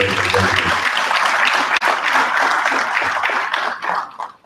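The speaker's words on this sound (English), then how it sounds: "Can you give him a round of applause?" A crowd applauds at a rural development policy speech gathering, honoring a guest who stands up; dense, steady clapping fills the space, with a low murmur of voices underneath before tapering off at the end.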